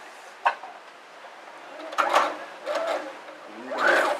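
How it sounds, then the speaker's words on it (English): A sewing machine stitches through thick layers of fabric for a medical face mask in short separate bursts of whirring and clattering, close and moderately loud, with quiet handling noise between runs. "then we're going to press the foot and start sewing"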